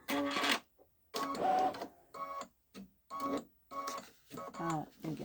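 A Babylock Solaris Vision embroidery machine stitches a design in short, rapid mechanical bursts separated by brief pauses, close and fairly quiet, while a person talks.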